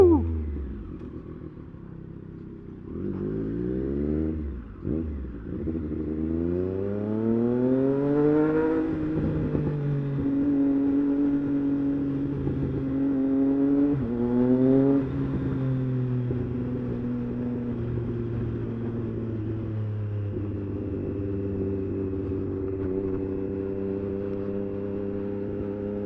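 Triumph Street Triple 765 RS motorcycle riding through New York City streets, its engine note rising and falling through repeated gear changes, with steady droning cruise and strong throttle pulls, close and loud throughout.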